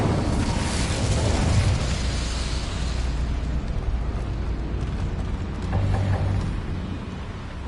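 Incendio fire spell cast in Hogwarts Legacy, a loud roaring, crackling burst of flame that dominates the opening seconds, then settles into a lower rumbling wash with a few more flaring pops near the end.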